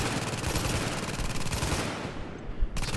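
Rapid automatic turret fire from The Division, a dense, loud stream of gunshots that drops out briefly near the end before bursting back in.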